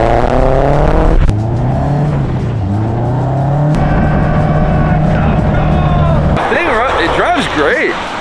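A K-swapped Toyota AE86 engine revs loud and steady on a dyno, holding a sustained drone that shifts pitch in stages before a rough, wavering burst near the end, with voices talking over it.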